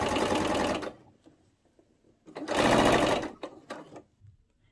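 Sewing machine stitching a skirt hem, running in two loud sustained bursts of fast mechanical whirring separated by a quiet pause with faint handling clicks.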